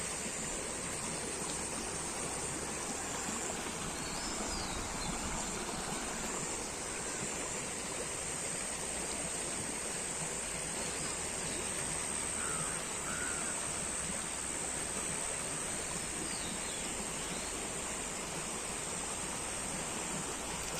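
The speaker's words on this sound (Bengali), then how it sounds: "এই দেখেন নদীর পানি কি সুন্দর বাড়তেছে" Constant broadband rush of a rising river after rain in a village, a steady roar with no voices and only faint distant sounds mixed in.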